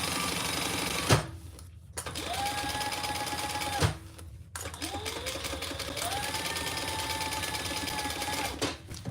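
A sewing machine stitches in steady runs, near and loud, with short pauses where the whirring stops and restarts; no one speaks.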